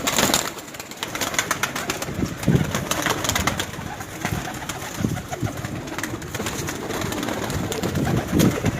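Pigeons in a colony coo repeatedly at close range, soft throaty calls rising and falling over a busy background of rustling and bird movement, with no speech heard.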